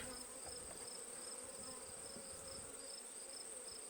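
Steady, dense buzzing of many honeybees close by in a hive, a continuous hum with no pauses and no voices.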